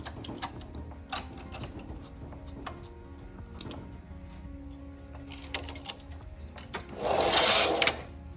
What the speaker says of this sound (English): I'm going to move my carriage across because my yarn will be on the left hand side of the machine